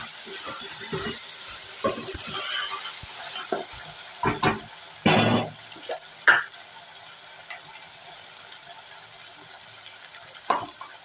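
Tomato curry frying in a pan, a soft steady sizzle with occasional louder spatters and clinks of stirring, close by and fairly quiet.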